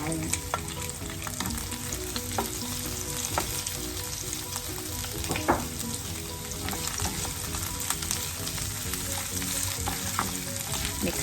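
Onions frying in a pan for a chicken curry with pineapple, a steady dense sizzle with scattered crackles and scraping stirs running throughout at a moderate, close level.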